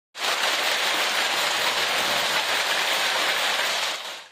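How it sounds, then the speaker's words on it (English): Hail falls during a strong storm in Starlight, Indiana, a dense, loud, continuous clatter and hiss that begins abruptly and fades near the end, with no speech. "That's not just heavy rain, but hail falling in Starlight, Indiana and Clark County."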